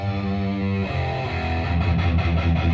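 Distorted electric guitar plays through an Emperor cabinet captured by two mics, a thick, heavily saturated sustained chord that shifts into busier chugging notes, loud and close with no talk.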